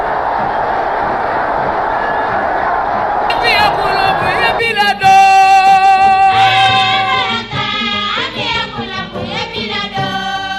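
A stadium crowd roars and cheers loudly as the supreme leader of the Revolution enters the 28 September stadium, a dense sustained crowd noise that gives way to music partway through.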